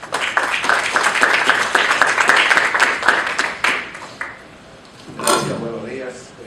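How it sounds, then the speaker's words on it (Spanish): Audience applause for a speaker at a justice-system event in the Dominican Republic, dense clapping filling the room for several seconds before fading, followed by a speaker beginning to talk. "Un aplauso."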